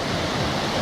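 The muddy Teberda mountain river rushes in a steady, dense roar of turbulent water that fills the whole short moment. The sound is continuous and close, with no voices.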